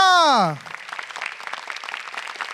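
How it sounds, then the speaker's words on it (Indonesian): After a brief falling tonal sweep, a stand-up comedy competition audience breaks into moderate, scattered-to-steady clapping that continues evenly. "Beri tepuk tangan untuk Ratanca."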